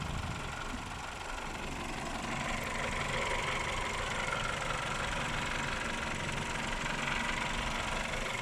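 A Toyota Corolla's 1.6-litre 3ZZ-FE four-cylinder engine idles at a steady, even hum with a faint mechanical ticking, close and continuous throughout, with no voices.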